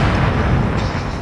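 A loud, close explosion in The Division sets a tank on fire, a dense rumbling roar that fills the whole moment without a break.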